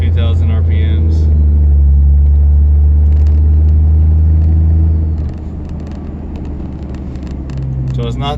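A deleted diesel truck engine drones under 2,000 RPM, a loud, low, steady rumble heard from inside the cab that eases slightly partway through and then swells a little again.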